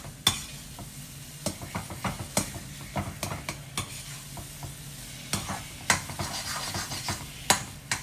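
Garlic and curry leaf vatha kuzhambu cooking in a pan, with repeated stirring scrapes and sharp spoon knocks over a steady low sizzle and bubbling, close and moderately loud, no talk.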